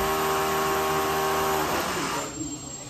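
A power drill whines loudly and steadily with a constant motor tone, then winds down and stops near the end, leaving quieter background noise.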